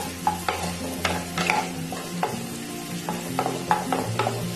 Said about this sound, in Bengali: এখন আমি এখানে কাঁচা লঙ্কা দুটো দিয়ে দিলাম।